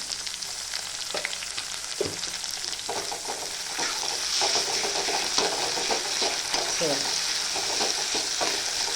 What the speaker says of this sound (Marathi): छान असं ते परतलं चाललेलं आहे अद्रक लसूण टमाटर कांदा शिजतानाच